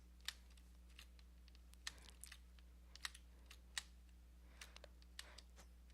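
Computer keyboard keys click irregularly during play of Cluster Rush, a truck-jumping game, with sharp taps scattered over a steady low electrical hum, fairly faint and close.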